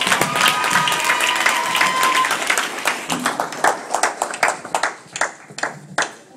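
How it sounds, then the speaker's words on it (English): A small crowd claps at a marriage proposal gathering in Dallas, Texas, dense at first and then thinning into separate, distinct hand claps toward the end, with a few voices mixed in. "Everybody, round of applause."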